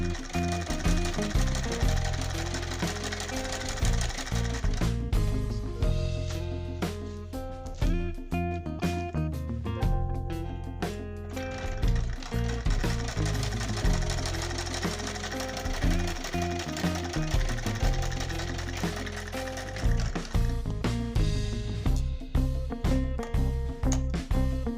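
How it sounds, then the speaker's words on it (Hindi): A sewing machine stitches along the very edge of salwar fabric, loud rapid mechanical rattling running in repeated bursts with short pauses between runs. "यहाँ पे सिलाई लानी है बिल्कुल किनार पे।"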